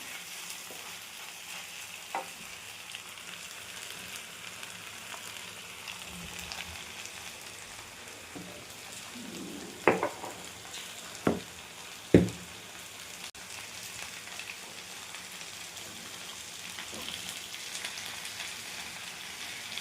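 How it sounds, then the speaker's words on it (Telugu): Okra simmers in a pan with tamarind and tomato, producing a soft, continuous sizzle with a few sharp clinks of a spoon stirring partway through, with no voices. "కాసేపు ఇది చింతపండు టమాటాలో మగ్గనివ్వాల ఒక 2 మినిట్స్"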